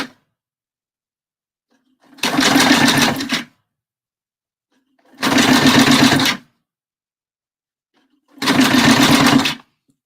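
A sewing machine runs three separate bursts of stitching along a bra seam, each lasting about a second, with roughly two seconds of silence between them, loud and close with no talking.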